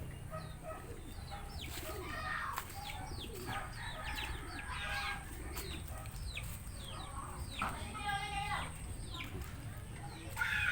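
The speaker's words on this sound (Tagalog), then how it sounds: "Dito naghahapunan yung mga manok" Pet chickens at feeding time beside a hut in a rural yard cluck and chatter quietly with overlapping bird calls, fairly distant and soft against a steady outdoor hiss.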